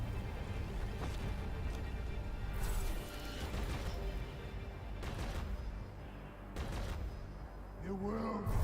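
Gunfire in Deus Ex: Mankind Divided during a firefight against an enemy and turrets, with repeated dense bursts and sharp impacts over continuous loud game noise, occasional mechanical clanks, and a voice talking over the action.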